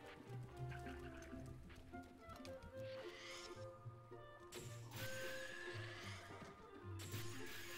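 A horse whinnies repeatedly over ambient sound in Zelda: Breath of the Wild, the neighs rising and falling with short pauses between them.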